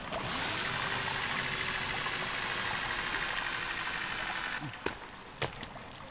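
Water flowing in a cave in the game Sons of the Forest, a loud steady rushing pour that lasts several seconds and then stops, followed by a few faint knocks.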